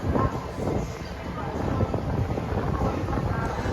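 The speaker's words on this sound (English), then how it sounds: "you guys can hear the wind whooshing by" Steady wind buffets the microphone with a constant low rumbling roar, gusting throughout without pause, on the Las Vegas Strip.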